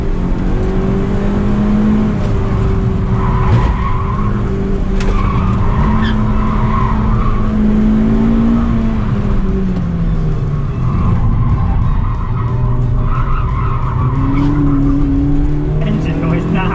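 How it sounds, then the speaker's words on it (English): A Suzuki Swift pushed hard around Curborough Sprint Course on a trackday, its engine droning and rising and falling as the tyres squeal and skid through the corners, with occasional voices inside the car. "Engine noise, nah, tyre squeal"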